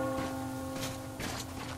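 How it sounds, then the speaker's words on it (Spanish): A church bell rings in the video game Metro Exodus, distant and soft, and its sustained tone hangs over a steady outdoor ambience with faint rustling. "¿Oyes esa campana?"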